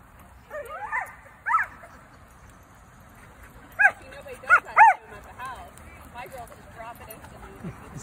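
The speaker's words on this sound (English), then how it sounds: "This little two-legged dog is the cutest thing." A small two-legged dog gives a few short yips and barks, interspersed with high whimpers, fairly close, with quiet stretches between bursts.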